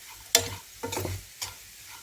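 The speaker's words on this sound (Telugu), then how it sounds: "ఉప్పు వేసుకొని ఇలా ఒకసారి కలుపుకుందామండి." Salt being stirred into fresh grated coconut fry in a pan, with three separate bursts of scraping and stirring and a soft sizzle between them, close and clear, with no voices.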